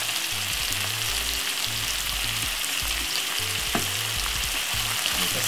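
Salt fish frying with ketchup and coarse pepper in a pan, a steady loud sizzle with soft stirring scrapes running throughout, no voices.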